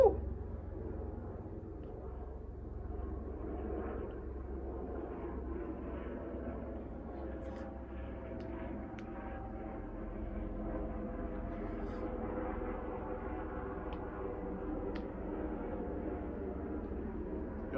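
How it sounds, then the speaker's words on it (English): A helicopter drones overhead as a low, steady rumble, fairly faint and continuous throughout. "Y'all hear that? I believe it's a helicopter."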